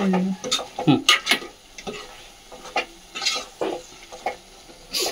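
Chicken fry being stirred in a wok, with scrapes and clinks of the spatula against the metal in an uneven rhythm over a faint sizzle, close up, alongside brief voice-like sounds.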